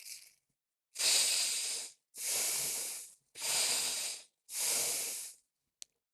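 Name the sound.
deep breathing in and out during a breathing exercise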